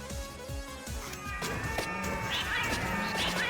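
Cartoonish cat meows and yowls from a video game, Vampire Crawlers, heard over busy game music and effects, with several short meows near the end.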